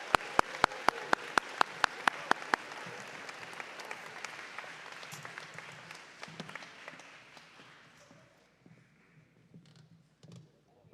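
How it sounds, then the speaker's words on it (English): An audience applauding athletes at an eighth-grade awards event, opening with a few sharp claps before spreading into steady crowd clapping that gradually thins and fades out. "Please give one last round of applause for these amazing athletes."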